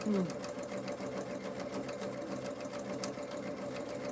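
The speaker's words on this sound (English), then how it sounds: "Today I'm gonna sew placemats." Sewing machine running steadily while stitching Christmas placemats from black fabric, a continuous close mechanical whir with a brief voice at the very start.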